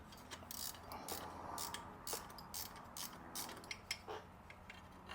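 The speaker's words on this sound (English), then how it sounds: "we're gonna have to sneak in with a wrench over here on the top side and get to this nut" A wrench works a nut on the top side of a Ferrari F430 clutch assembly, giving a run of quiet, uneven ratcheting clicks and small metallic ticks at close range with no voices.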